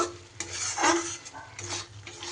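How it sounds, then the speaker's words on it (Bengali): Spices stirred and sautéed with fried potato and pointed gourd in a pan, a soft scraping and clinking of a spoon against the pan over a low sizzle, with a few brief louder scrapes, close by. "যতক্ষণ না মশলা থেকে তেল ছাড়ছে ততক্ষণ পর্যন্ত কিন্তু খুব ভালো করে আমি কষিয়ে নেব"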